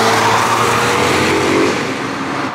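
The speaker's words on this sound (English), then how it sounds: "The new Lambo. Good to see." A Lamborghini Revuelto prototype sweeps past on the Nürburgring, its engine a loud, close, rising-then-falling roar that fades out as the car moves away.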